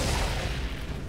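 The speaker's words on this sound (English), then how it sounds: "Overheat" An Overheat fire skill in Outriders, a short loud booming burst with heavy low rumble that tails off over about a second, with no voices.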